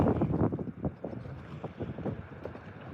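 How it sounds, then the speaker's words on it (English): Wind buffets a bass fishing boat on open water, a steady rushing roar of microphone wind noise with gusty surges, fairly close and continuous throughout. "we're going to be in the wind for a second"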